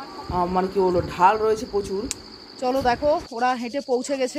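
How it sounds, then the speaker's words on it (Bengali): Crickets chirp at dusk in the Darjeeling hills near a homestay, a steady high trill running faintly under close conversation throughout. "ঝিঝি পোকা ডাকছে"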